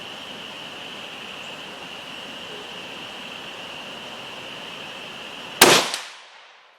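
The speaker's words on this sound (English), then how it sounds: "I hit the smallest of the three iron plates, 4-inch diameter" A single sharp rifle shot in .223 cracks out over a steady outdoor hiss with a faint constant tone, then decays quickly. A 4-inch steel plate target is being hit, though no distinct ring of the plate stands apart from the blast.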